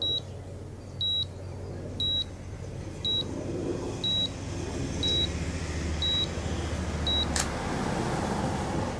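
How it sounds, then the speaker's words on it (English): A DSLR timer remote beeps during a long exposure, sharp high electronic bleeps spaced about one second apart, eight or nine in a row, over a low steady background hum with a brief click near the end. "And here it's beeping away."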